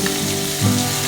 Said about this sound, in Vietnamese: Đầu tiên thì mình sẽ cho hành tỏi vào này.